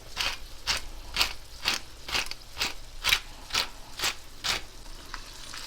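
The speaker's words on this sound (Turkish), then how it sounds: "Soğanlarımız çok güzel sotelendi." Sliced onions sautéing in a pan for gözleme filling, stirred in steady, evenly spaced scraping strokes over a soft sizzle, close and moderately loud with no talking.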